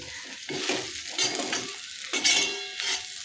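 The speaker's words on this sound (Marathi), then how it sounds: "आता ही चिरलेली भेंडी आहे ती यामध्ये टाकते आणि भेंडी हलवून घ्यायची आहे" Chopped okra is stirred with spices in a pan for besan bhindi. A utensil scrapes and tosses it in several quick strokes over a soft sizzle, close and clear with no talking.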